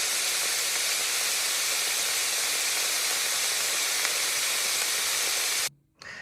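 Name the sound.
vegetables sizzling gently in a pan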